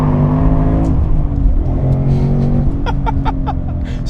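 A Roush Stage 3 Mustang GT with an Eaton blower, rated at 670 horsepower, accelerates hard with a loud, rising supercharged engine roar that continues through a gear change.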